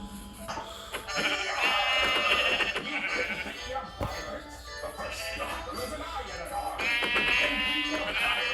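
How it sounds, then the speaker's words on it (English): Sheep bleating loudly twice in Minecraft, drawn-out nasal calls with a busy background between them, no talking. "Oh, sheep."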